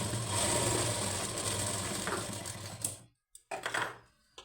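A sewing machine stitches a lining blouse with a close, continuous mechanical whir for about three seconds. It then stops, and a few short clicks and bursts of handling follow.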